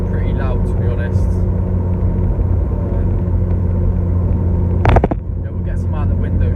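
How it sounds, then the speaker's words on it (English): Loud, constant rumble from the new exhaust on a modified Vauxhall Corsa VXR, close and steady, with a sharp burst near the five-second mark; voices murmur under the engine. "as you can hear, got a new exhaust on the back as well."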